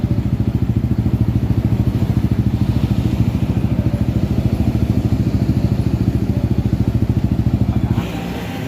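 A Honda Click 160 scooter fitted with an Apido aftermarket exhaust pipe idles close by with a loud, rapid, even engine putter and a throaty exhaust pulse. Near the end the rhythm drops away to a softer hum.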